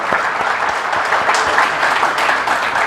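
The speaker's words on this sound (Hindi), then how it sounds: "हम सबको उनके लिए एक बार जोरदार उनके लिए हम ताली बजाते हैं" Loud, sustained applause from a crowd, dense clapping throughout with no pauses.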